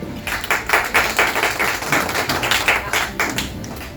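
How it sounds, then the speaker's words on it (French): Hand clapping from a small audience at a private magic show evening, greeting a volunteer called to the stage: close, loud, rhythmic claps in a steady burst lasting a few seconds. "on peut l'applaudir aussi"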